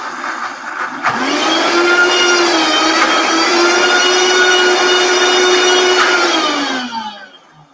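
A Vitamix blender purees vegan Caesar salad dressing, a loud steady high-pitched motor whine that ramps up after a second, holds for several seconds with the blade churning, then winds down at the end; no one speaks.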